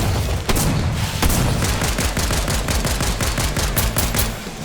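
Rapid automatic gunfire in a war-themed video game, a dense burst of loud repeated shots in quick succession, close and sustained, ending as a short tail fades out.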